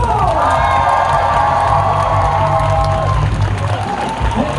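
A studio audience at a Korean comedy show's closing stage greeting, after the final recording, bursts into loud cheering, whoops and applause, a continuous roar of a close crowd lasting the whole moment.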